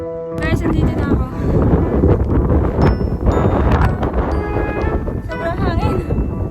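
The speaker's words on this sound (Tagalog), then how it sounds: "Sobrang hangin." Strong gusts on a hiking trail buffet the microphone in loud rumbling bursts while a person talks over the roar, with a few high whistling tones.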